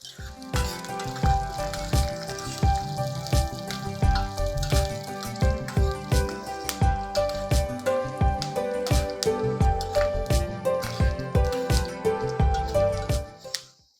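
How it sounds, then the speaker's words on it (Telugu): Chana dal, urad dal and dry red chillies crackle in hot oil as a tempering, a dense run of sharp pops and spits over a constant sizzle lasting the whole stretch. "ఒక స్పూను శనగపప్పు ఒక స్పూను మినప్పప్పు మినప్పప్పు ఎండుమిర్చి కూడా వేసేద్దాము"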